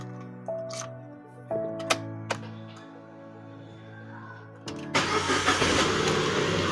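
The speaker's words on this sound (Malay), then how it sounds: "kita start kereta" A Proton Exora's engine cranks and catches about two-thirds of the way in, jumping from a quiet cabin into a loud, steady idle roar. Some faint knocks come before it, and nobody speaks.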